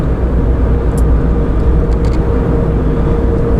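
Car cruising at about 80 km/h on a rural French road, a steady low engine drone and road rumble heard from inside the cabin, with faint brief ticks over the constant noise.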